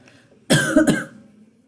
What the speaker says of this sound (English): now this cough is just living with me